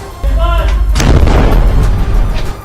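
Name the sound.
explosions from Israeli army at Al-Shifa hospital, Gaza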